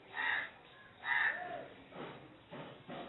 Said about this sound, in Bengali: চারিদিকে কাক পাখি সকলের ডাক শোনা যাচ্ছে